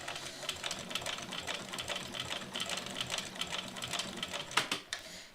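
A sewing machine stitches a bag strap, a fast, steady mechanical chatter running close and continuously, with a slight jolt near the end.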